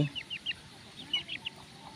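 Chicks clucking softly in short repeated bursts, a few close chirpy calls over a quiet outdoor garden background.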